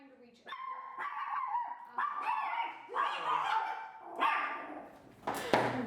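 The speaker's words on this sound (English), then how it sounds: "Those are the chihuahuas." Several small chihuahuas bark and yip in repeated bursts close by, with a sharper outburst near the end, overlapping with people talking in a casual indoor setting.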